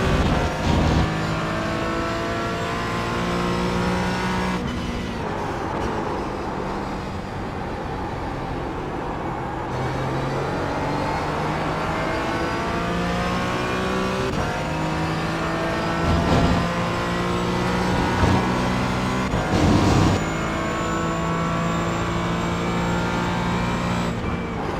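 Race cars in the iRacing simulator close in and pass on the Mugello circuit during an endurance race, engine notes rising and sweeping by in several moderately loud passes over a continuous car drone.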